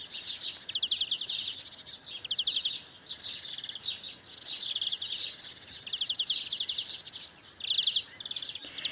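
Small garden birds chirp around hanging feeders, with a busy stream of high, quick tweets in repeated bursts, fairly near and continuous, over faint outdoor background.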